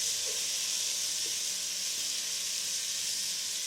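Tomatoes, chilies, onion and ginger garlic paste sauté for chicken tikka biryani, giving a loud, continuous hissing sizzle with a couple of soft clicks and no talk.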